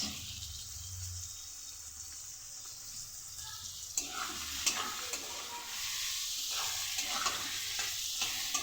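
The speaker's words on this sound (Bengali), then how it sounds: "নুন আর হলুদ দিয়ে আলুটা ভেজে নিই।" Potatoes and onions frying in a pan with salt and turmeric make a steady soft sizzle, with scattered stirring scrapes and clinks in the later part of the clip. No one speaks.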